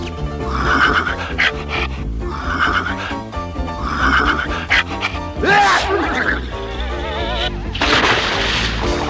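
Repeated loud cartoon horse neighs and whinnies up close, three in quick succession, followed by snorting and shuffling sounds.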